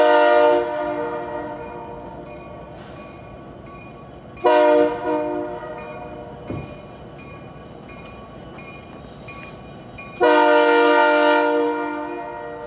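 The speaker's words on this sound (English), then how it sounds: "Canadian National Train L557 is seen from Hannah Drive in Pekin" Canadian National local freight train L557, led by two EMD locomotives in Pekin, Illinois, sounding its air horn in three loud blasts, a long one then two more, with rumbling rail noise between.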